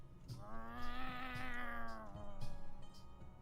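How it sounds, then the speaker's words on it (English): A cat in the video game The Inn Between lets out a long, strained, wavering yowl, fairly close and alone, with faint scattered ticks and thumps around it. "The hair was raised along the spine of the cat, and its tail fluffed to a ridiculous degree."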